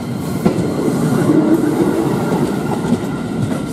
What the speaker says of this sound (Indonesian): Keretanya silih berganti.